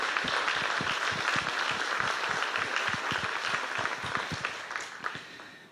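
A church congregation at a celebration service applauds steadily, many hands clapping in a broad continuous wash that tapers off slightly near the end, with some faint voices in the crowd.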